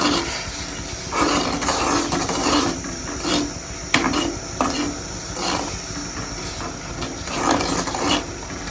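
A pot of anthill soil mixture for a homemade ayurvedic joint-pain remedy is stirred with steady, rhythmic gritty scraping strokes that rise and fall close by, with no voices.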